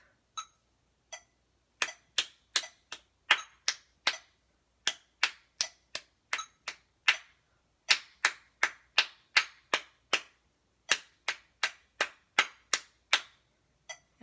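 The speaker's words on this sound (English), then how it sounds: "Let's clap." Crisp hand claps keep a steady moderate beat of about 80 per minute during a flute lesson, starting sparse then continuing evenly, close and clear with no talking.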